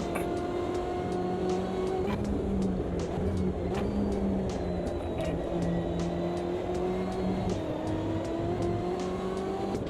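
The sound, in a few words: BMW race car engine in a racing video game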